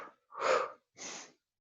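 Two breaths heard up close during a yoga breathing exercise: a strong, airy breath, a short pause, then a second, softer one, with no talk.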